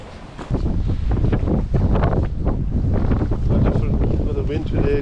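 Strong, steady wind buffeting the microphone on a misty hill hike toward rocky high ground, a continuous loud rumble with gusty swells throughout.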